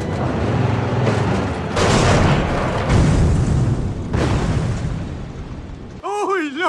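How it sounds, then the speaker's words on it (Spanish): Film explosions from an Argentine beach-lifeguard comedy blockbuster: loud, dense booming blasts and rumbling bursts that surge several times, ending in a short burst of tonal sound effects. "Superproducción con explosiones."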